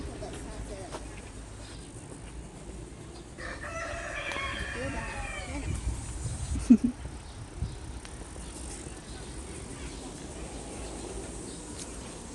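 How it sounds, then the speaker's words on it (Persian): Small bantam chickens and roosters at a zoo in Romania, with a rooster's crow rising briefly amid faint clucking, heard at moderate distance over steady outdoor background noise and a sharp knock. "اینا کوچولو هن مرغ و خروسای کوچولو اونا دیگه کوتولن"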